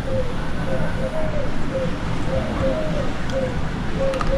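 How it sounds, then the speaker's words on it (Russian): Pigeons coo in short, repeated soft notes near the Rixos Beldibi hotel in Kemer, Turkey, close and rhythmic against a steady wash of outdoor ambience. "То есть ты говоришь, что вот это голуби, да, звуки издают?"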